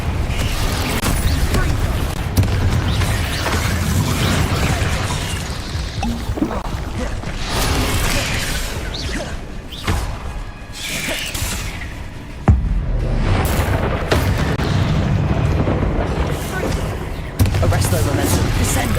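Confringo fire spell cast in Hogwarts Legacy, bursting amid a dense, continuous din of other spell blasts, crackling magic and battle noise, with sharp loud hits near 12.5 and 17.5 seconds.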